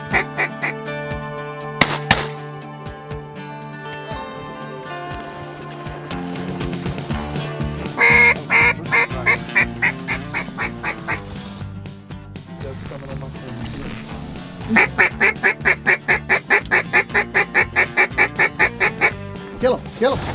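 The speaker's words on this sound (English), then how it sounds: "Single mallard right up front." Mallard ducks quack near a pit blind during a duck hunt, in repeated nasal calls and short bursts, with a fast run of rhythmic quacks toward the end.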